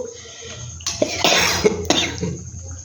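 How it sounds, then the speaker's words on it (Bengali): A few close coughs from a person with a bad cold, heard in a home kitchen while an egg dish is being cooked, set against a low steady background hum. "কাশি হয়েছে দেখো বন্ধুরা কিচ্ছু মনে করো না খুব ঠান্ডা লেগে গেছে"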